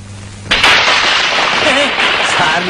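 Firecrackers set off in a Malayalam film comedy scene, a sudden loud, sustained crackling roar of bursts that starts abruptly and continues, with voices faintly mixed in.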